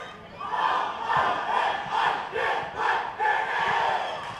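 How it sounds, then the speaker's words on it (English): Trinity College supporters at a schools rugby cup match against Wesley College roar and chant together after a try, a loud crowd swelling in repeated rhythmic surges of cheering. "Trinity supporters finally finding their voice, finally have something to cheer at"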